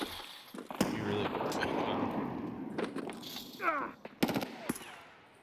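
Gunfire in Escape from Tarkov cracks out in several sharp shots and short bursts amid a continuous roar of game noise, with voices talking over it.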